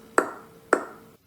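Two sharp claps, evenly spaced about half a second apart, each ringing briefly before it fades, heard alone in a quiet room to switch on the lights.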